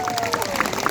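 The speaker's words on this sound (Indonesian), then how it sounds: "Tepuk tangan ya Tore" A crowd at a religious gathering in Situbondo breaks into applause, a busy patter of many hands with a murmur of voices and a faint tonal hum underneath.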